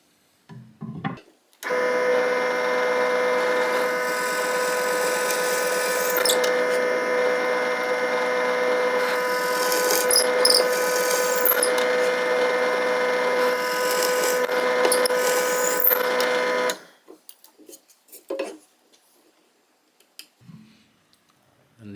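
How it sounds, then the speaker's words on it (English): A power drill bores dowel holes into wood for a giant wooden chain link, a loud steady whine held for about fifteen seconds, then brief clicks and handling sounds afterward. "I'll drill the holes for the dowels."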